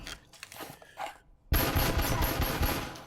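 Rapid pistol gunfire in the VR shooter Breachers breaks out suddenly after a quieter stretch of scattered clatter, then holds as a loud, dense, sustained stream of shots until the end.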